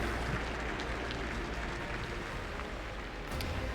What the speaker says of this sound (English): let's give a warm round of applause for Astrea.